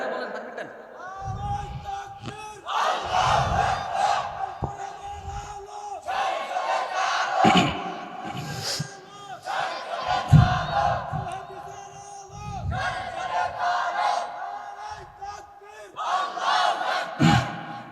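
A large crowd shouts takbir in unison at an Islamic religious gathering, repeated bursts of massed voices rising and falling over roughly eighteen seconds, loud and close, with a preacher's voice urging them between the chants.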